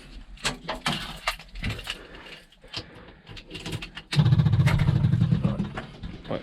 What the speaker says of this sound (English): I'm going to put the ignition on and see if we've got any petrol actually pumping out of it.